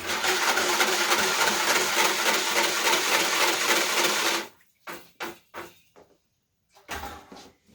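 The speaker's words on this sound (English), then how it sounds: "I have to stir it up with this giant whisk" A giant whisk stirs pottery glaze in a big bucket, a loud, steady churning swish for several seconds, then stops and gives way to a few short knocks and scrapes.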